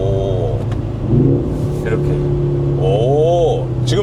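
A Mercedes-AMG car engine revs and drops in pitch through paddle-shift downshifts with engine braking, with people talking over the engine noise inside the cabin.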